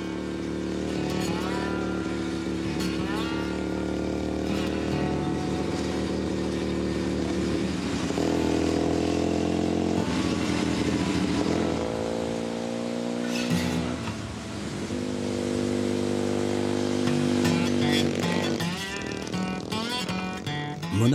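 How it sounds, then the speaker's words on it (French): A motorcycle rides along the road to Mauna Kea, Hawaii, its engine droning steadily and rising and falling in pitch through gear changes over about twenty seconds, with music and faint voices mixed in. "dès qu'il le peut, Olivier prend la route à moto."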